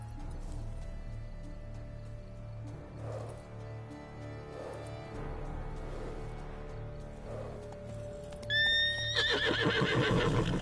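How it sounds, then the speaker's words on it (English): A skittish horse in The Witcher 3: Blood and Wine whinnies loudly near the end, a rising, shaky neigh over steady background music and ambient rumble. "And it's a skittish horse."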